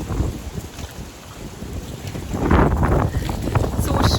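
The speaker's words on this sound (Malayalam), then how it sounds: "നല്ല കാറ്റുണ്ട്." Strong wind buffets the microphone outdoors on a cold, blustery day, producing loud, low rumbling gusts that swell and fade, growing heavier in the second half.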